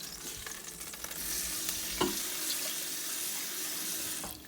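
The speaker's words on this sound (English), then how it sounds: "Give it a little rinse, just about that much." Water running from a tap into a cooking pan during a rinse, a steady close hiss and splash, with a brief clunk partway through and no talking.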